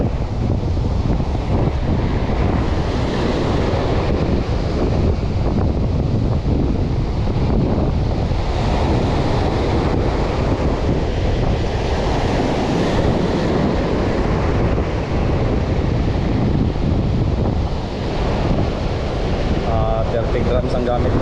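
Strong ocean waves pound the shore on a rainy day out fishing, a continuous loud roar of surf mixed with heavy wind buffeting the microphone throughout.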